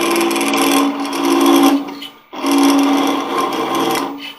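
Close, loud scraping hiss from a sharpened wrench edge cutting spinning wood on a lathe, two sustained passes with a short break between them.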